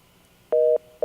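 Two bursts of a steady telephone line tone during a failed call-in to a Saturday morning sports radio show, a long half-second beep then a second starting, over a faint hum with no voices.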